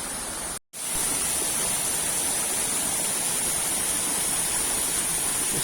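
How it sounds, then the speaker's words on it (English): Excelsior Glen Falls in winter, a steady, loud broadband rush of falling water that fills the whole clip, broken only by a momentary dropout near the start. "that's a pretty nice waterfall right there"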